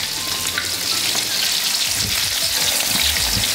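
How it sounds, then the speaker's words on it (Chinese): Hairtail fish pieces deep-frying in hot oil over low heat, a steady, close, dense sizzle with fine crackling spatter that holds throughout, with no talking. "带鱼全部下完再转文火慢炸，先让它定型再翻动它"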